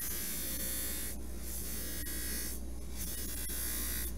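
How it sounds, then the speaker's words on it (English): A rotary buffing tool whirs steadily against the outside edges of a handmade silver ring shank, a loud continuous motorized buzz with slight dips in tone as the ring is turned, close and without speech. "Now I'm buffing the outside edges of the ring shank all the way around."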